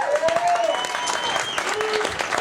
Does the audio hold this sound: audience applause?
yes